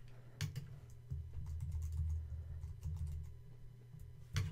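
Close keystrokes on a computer keyboard rattle in quick irregular runs with brief pauses, set over a low steady hum and heard alone without speech.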